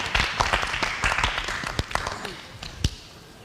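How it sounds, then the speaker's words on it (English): Scattered applause from a studio audience on a live reality show, a loose patter of individual claps and slaps that thins out and fades toward the end, with voices mixed in. "Stars, a round of applause for Group 2"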